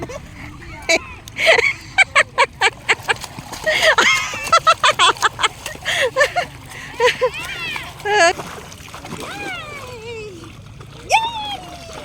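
Rhythmic splashing of water as someone swims, in quick repeated strokes, with voices calling and talking over it nearby.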